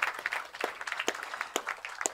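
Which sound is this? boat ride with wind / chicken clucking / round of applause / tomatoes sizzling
round of applause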